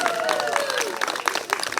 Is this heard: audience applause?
yes